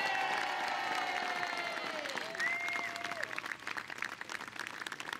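Crowd at Warwick Castle claps and cheers for the trebuchet crew, a faint, fairly distant wash of applause with a few raised voices, fading toward scattered claps.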